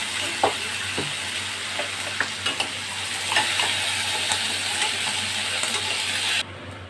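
Ridge gourd and potato pieces frying in oil in a pan, a continuous loud sizzle with a few scraping stirs, ending abruptly.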